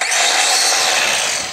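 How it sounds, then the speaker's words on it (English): Weed whacker running close by, a loud, steady high-pitched motor whine held throughout. "Put the weed whacker down now."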